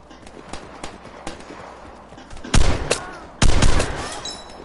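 Gunfire in the Vigor video game, a few scattered shots followed by two loud close blasts, with light background clatter between.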